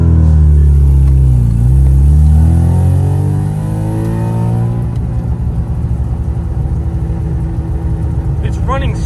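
A troublesome project car's engine, close and loud, revving through rising and falling pitch sweeps before settling into a steady, rough idle.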